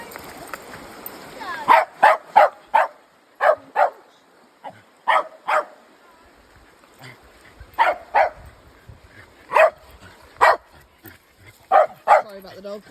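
Dog barking repeatedly during a summer woodland walk along a rustic bridle path near a river, sharp barks coming in irregular bursts and pairs, fairly close and loud over quiet outdoor background.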